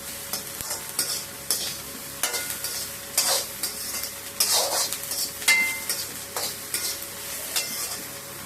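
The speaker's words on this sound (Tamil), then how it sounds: "நல்லா ப்ரௌன் கலர் வர வரைக்கும் வதக்கணும்" Ivy gourd sautéing in a pan until browned, with a steady sizzle broken by repeated scraping stirs of a spatula against the metal at an uneven rhythm, close and fairly loud, no voices.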